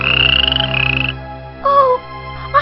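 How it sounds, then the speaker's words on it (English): A green frog croaking in a storybook setting by a pond, loud and close: a rapid pulsing trill, a pause, then shorter rising croaks in quick bursts, with no talking. "found herself staring at an ugly green frog."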